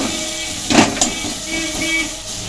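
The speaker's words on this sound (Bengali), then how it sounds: "মশলাটা খুব ভালো করে আমি কষে নিচ্ছি।" Paste of turmeric and homemade ground coriander and cumin frying in a pan for a bata fish chorchori, giving a loud, continuous, close hiss with a brief rise of sharper sizzling partway through.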